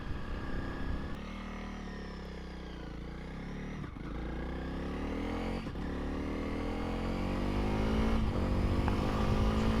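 A Honda CRF300L motorcycle rides along a Suffolk byway, its engine droning steadily with gear changes and rising revs, heard close with wind rush.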